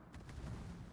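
Naval guns on a cruiser fire high-explosive shells in World of Warships, a quick burst of deep, booming cannon blasts rolling together at a distance, faint and with no talk over them.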